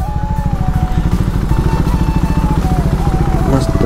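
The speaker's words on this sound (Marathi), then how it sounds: "इथे आपण बाईक थांबवू" A motorcycle engine thuds with a rapid, even beat close by, loud and steady throughout as the bike comes to a halt on a roadside, a faint voice briefly underneath.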